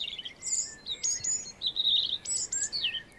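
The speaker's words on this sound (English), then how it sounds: "The robin is one of the first and loudest." A robin sings in a spring forest, a string of high, bright, warbling phrases with short pauses between, clear and fairly near over a quiet woodland background.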